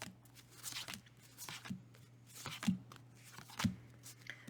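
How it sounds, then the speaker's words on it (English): Cards from a large tarot deck being dealt out one at a time, soft flicks and slaps landing at an irregular pace, quiet and close, with a low steady hum beneath. "So I'm just going to deal out till I get the cards."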